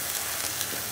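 Venison steaks frying over an open flame on a pop can stove outdoors, a brief, steady, hissing sizzle at close range with no voices.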